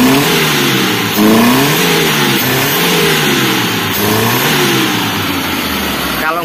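A Mitsubishi Colt SS engine revs up and down in repeated swells from an idle-like drone, loud and close, with a rough, popping edge in the lower rev range.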